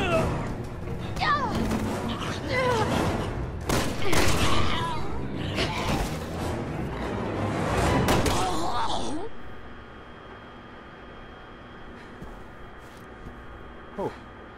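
Gunfire in the Resident Evil 6 video game, a burst of loud shots and impacts over the first nine seconds mixed with game voices, then quiet ambience with a faint late thump.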